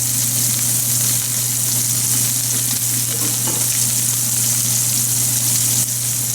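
Shell pasta with ground meat fries in a greased pan, giving off a loud, steady, close sizzle that runs unbroken, over a low constant hum.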